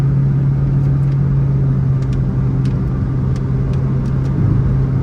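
A 2003 Honda City 1.5 automatic idles steadily with its engine running, a constant low hum close by and alone, with a few faint clicks above.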